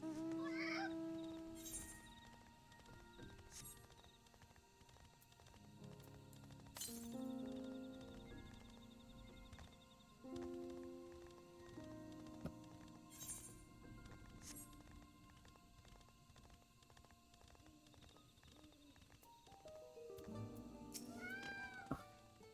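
A cat mount in FFXIV Dawntrail meows several times over game music, with short tonal cries spread through the stretch.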